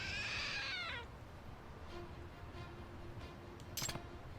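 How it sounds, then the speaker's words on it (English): Trick statue in the video game Lost Judgment giving a clear, high cat meow at the start, then a quieter room with soft faint sounds and a brief sharp noise near the end. "It meowed."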